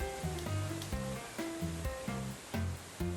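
Rushing water from a waterfall in the video game Deadly Premonition, heard as a steady, dense wash over a looping background music pattern.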